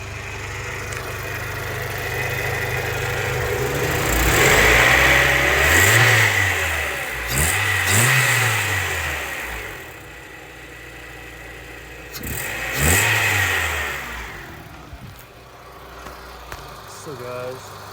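A 1998 Honda CR-V engine runs close by, idling with several sharp revs that rise and fall, over a steady mechanical hum with one person talking intermittently.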